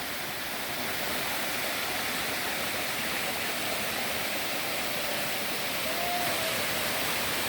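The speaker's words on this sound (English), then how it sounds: "we've got this small waterfall" A small waterfall near Three Pagodas Pass, Thailand, roars in a steady, broadband rush of falling water, close and loud throughout with no pauses.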